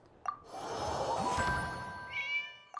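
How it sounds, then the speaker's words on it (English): A cat meows in the video game Genshin Impact: one drawn-out, clear meow with a rising tail, set between short bright chime-like dings at the start and end. "Meow."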